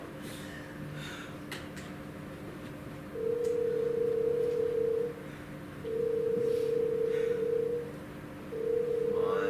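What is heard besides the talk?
telephone call tone going straight to voicemail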